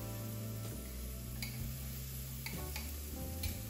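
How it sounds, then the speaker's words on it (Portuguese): Garlic cloves sauté in hot olive oil under a steady sizzle, with light ticks from a silicone spoon stirring in the pan. A low background hum runs throughout. "Azeite esquentou, vou jogar o alho. Vai dar uma refogadinha no alho."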